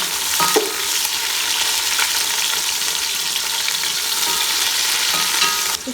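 Onion dropped into oil with medium-browned garlic for Chinese macaroni chicken rice, a loud, dense, steady sizzle with stirring scrapes throughout, no talking.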